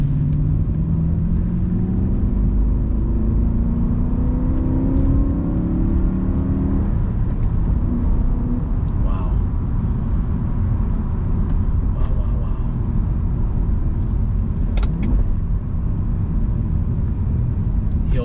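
A BMW M3 sedan with its V8 engine drives along, a steady close rumble and whir from the cabin, with a rising rev sweep in the first several seconds before settling into continuous cruising drone.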